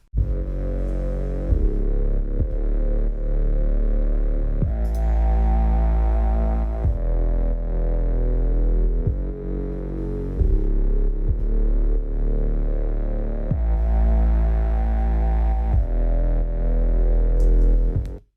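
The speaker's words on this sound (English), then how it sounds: "Let's have a listen to the bass sound, especially in the last chorus" A throaty, growling synth bass throbs through a steady line of sustained notes, distorted and buzzy, loud with no voices.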